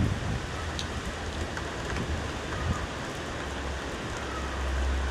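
Light drizzle falls steadily outdoors among banana plants, giving an even, soft patter that holds at a constant level for the whole stretch with no voices.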